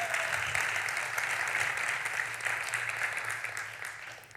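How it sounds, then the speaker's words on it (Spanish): Church congregation applauding Juan after his guitar playing, sustained even clapping from a crowd at moderate volume, tapering slightly toward the end with a low hum underneath. "Big applause for Juan"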